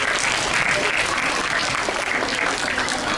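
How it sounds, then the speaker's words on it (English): Children and audience at a school interclass patriotic quiz competition give a huge round of applause for the contestants, a continuous, even wash of clapping. "a huge round of applause for all the contestants"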